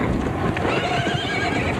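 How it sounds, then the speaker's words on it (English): A horse whinnies and neighs nearby while its hooves clip-clop in a loose rhythm, loud and close with no talking. "Come on, Dick, work that horse."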